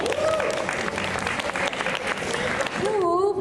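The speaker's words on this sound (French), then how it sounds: "Alors, on l'applaudit, s'il vous plaît." Audience applause at the Fantasticon 2017 masquerade costume show: dense, steady clapping from a large crowd. Near the end it thins slightly as a voice rises over it.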